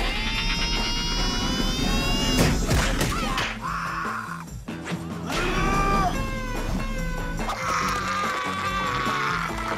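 Cartoon cats meow and yowl in a sudden surprise attack during a wrestling-themed animated film, with thumps and crashes of the scuffle, all loud and busy over a music score.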